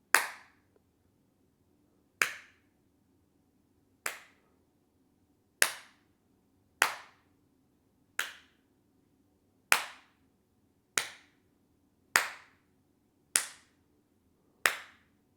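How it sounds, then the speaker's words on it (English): Single sharp hand claps ring out alone in a quiet room, eleven crisp pops spaced roughly every one to two seconds, each with a brief decay and no talk between them. "Smaller clap, more consistent."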